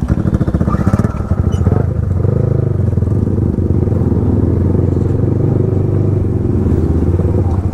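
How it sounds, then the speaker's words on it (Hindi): Motorcycle engine idling and puttering nearby as the bike is turned around at a scenic hillside spot, a steady close rumble with some clatter and no talk. "चलो बाइक टर्न करते पहले।"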